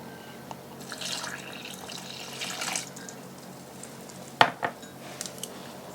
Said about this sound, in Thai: เทน้ำลงไปผสมค่ะ